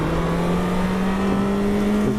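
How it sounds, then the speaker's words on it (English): A Yamaha FZ6 motorcycle engine holds a loud, steady droning rev close by, a sustained buzzing tone held for a couple of seconds before a wheelie. "Here's a little send-off wheelie."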